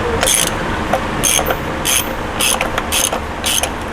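Ratcheting clicks from tightening a positive-stop oil filter cartridge on a Toyota in a lube shop pit, coming in several short bursts of quick, bright mechanical clicking at close range with steady background noise.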